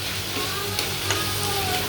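Onion sautéing in a pan, giving a brief, steady, close sizzle with no speech over it.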